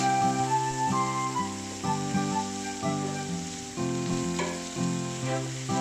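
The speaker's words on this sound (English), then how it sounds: "Add 1 teaspoon of salt and saute the onions." Onions and green chillies sauté in a pot for one-pot chicken biryani, a steady frying sizzle running under loud melodic background music.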